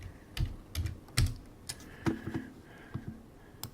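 Irregular keystrokes clatter on a computer keyboard while commands are entered to check network settings during firewall troubleshooting, a handful of close, crisp taps and clicks in short bursts with pauses, no talking.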